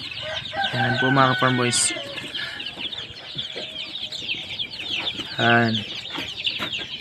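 Heritage chickens and chicks, including Rhode Island Reds and Hubbards, cluck and call on a farm, with two loud drawn-out rooster-like calls rising above a constant background of chick peeping, while someone speaks briefly.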